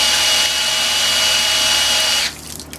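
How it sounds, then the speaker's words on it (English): A power drill runs a small pump filling a bee feeder with sugar water, giving a loud, steady whine with water rushing through. The drill cuts off abruptly near the end. "And then put your drill on number 2."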